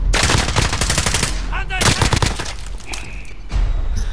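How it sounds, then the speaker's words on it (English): Rapid automatic gunfire from a Call of Duty: Modern Warfare online duos match rattles loudly and close in dense bursts, with a short pause and then more shots. "it was two people shooting me"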